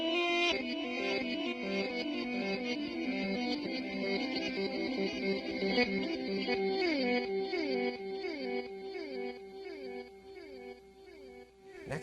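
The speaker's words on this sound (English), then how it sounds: "great about the reverse echo in the Memory Man here is that it actually listens to your playing" An electric guitar runs through a Memory Man reverse echo pedal, each phrase of notes trailed by swelling reversed repeats and cascading echoes, moderately loud and continuous, with no talking.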